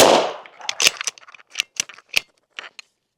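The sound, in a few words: suppressed bolt action .300 Blackout rifle shot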